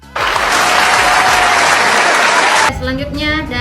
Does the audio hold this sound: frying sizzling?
no